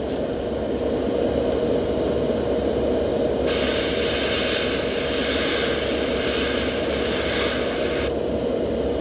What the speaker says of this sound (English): I'm letting the overspray come down on the sides just a little bit